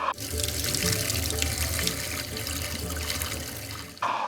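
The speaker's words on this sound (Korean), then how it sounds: "물소리가 나죠." Water runs steadily from a household tap for about four seconds, a continuous close gushing stream that stops abruptly near the end.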